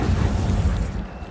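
A fiery Incendio spell blast in Hogwarts Legacy, a single deep rumbling boom that swells loud and close and then fades over about a second.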